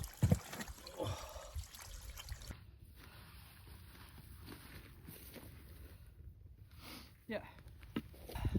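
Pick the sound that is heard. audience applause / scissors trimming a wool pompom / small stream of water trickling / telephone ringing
small stream of water trickling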